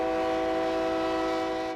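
A loud, steady train horn sounds in North Denver and holds one sustained, multi-toned blast for the whole stretch before cutting off.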